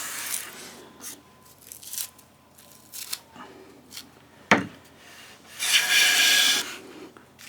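A wooden bench plane takes shavings from a board in short, scratchy, rasping strokes. One sharp knock stands out midway, and a longer, brighter pass follows near the end, all close up with no talking.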